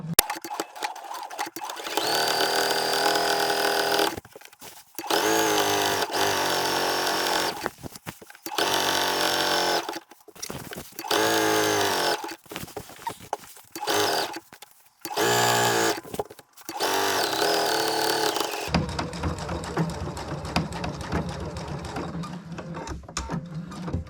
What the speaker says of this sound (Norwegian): Jeg syr først en stikning helt nederst.